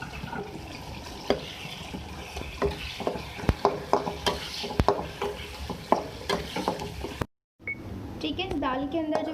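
Spice masala with red chili and garam masala fries and is stirred in a pan for dal, with repeated spoon scrapes and clinks over a sizzle, then a brief cutout and a voice speaking.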